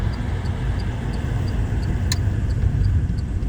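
A car travels city roads in Dnipro, a steady rumbling engine and tire noise filling the cabin at a constant level, with no talking.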